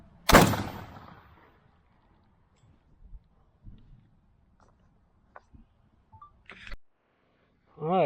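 A single shotgun blast, sighting in for turkey season, cracks sharply and close, then fades into quiet handling sounds and small clicks, with a short voice at the end.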